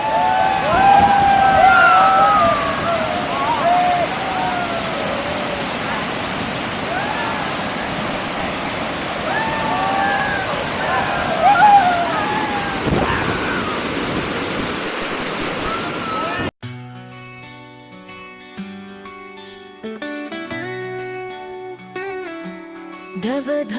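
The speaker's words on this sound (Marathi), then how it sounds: "आपण धबधब्याच्या जवळ आहोत माझ्या माझ्या मस्त सुंदर धबधबा" Savdav waterfall near Kankavli, Sindhudurg, roars loud and constant, with voices calling out over it, then the rush cuts off abruptly and music takes over.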